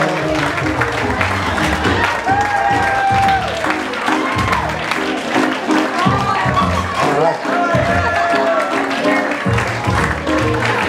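Wedding guests keep up a sustained round of applause, dense continuous clapping with some cheering and crowd chatter mixed in, holding steady at moderate loudness for about ten seconds.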